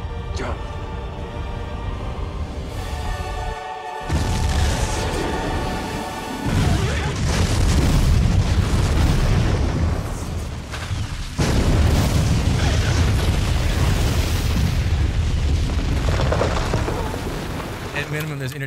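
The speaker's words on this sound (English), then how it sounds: "it arguably might be one of the biggest explosions in movie history" A massive movie-scene explosion: deep rolling booms and crashing blasts that surge repeatedly over nearly twenty seconds, loud and dense with rumbling low end and brief dips between waves.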